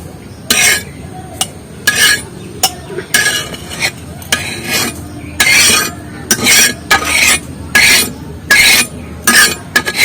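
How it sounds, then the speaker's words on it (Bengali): A utensil stirs and scrapes seeds that have been fried black in a pan before scooping them into a bowl, making about a dozen loud, rhythmic scraping bursts separated by short pauses. "এই চার দানাটাও আমার কালো করে ভাজা হয়ে গেছে। এবার তুলে নিচ্ছি বাটিতে।"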